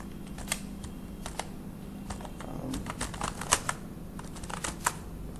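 Code is typed on a computer keyboard, close, quick irregular key clicks in bursts with short pauses, steady throughout.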